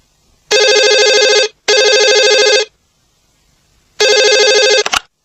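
A loud electronic phone ring sounds three times in long buzzing bursts separated by silent pauses, close and clear.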